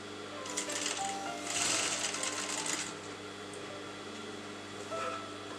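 An electric sewing machine top-stitches the neckline of a lined kurta, running in steady whirring bursts, a long run early on and a short one near the end, with quiet pauses between.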